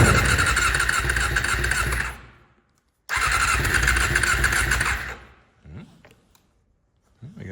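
A 1987 Honda CBR600F1 motorcycle engine, run with fuel plumbed in directly and no tank, cranks and catches twice in loud close bursts of about two seconds each, dying away between them.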